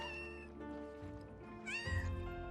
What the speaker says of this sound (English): That's a lot of kittens.